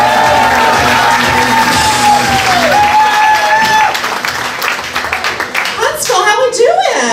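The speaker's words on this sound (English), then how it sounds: "Please clap your hands and scream loudly." A comedy club audience claps, cheers and whoops as a comedian takes the stage, loud and busy, with a voice over the crowd and shouts rising near the end.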